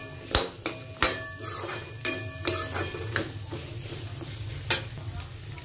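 Peas and potatoes fry in a pan while a utensil stirs them, sharp metallic scrapes and clinks landing irregularly over a steady soft sizzle, close by and without speech.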